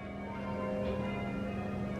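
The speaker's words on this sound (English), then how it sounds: "You can just hear the bells ringing over there at the cathedral." Church bells of Ripon Cathedral in North Yorkshire ring at a distance, a faint steady peal carried over a constant outdoor background with no talking.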